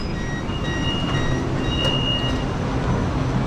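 An MRT train runs at Stadium Kajang station in Malaysia, a steady loud rumble and rush filling the whole stretch. Faint high tonal chimes or squeals float above it, and no one speaks.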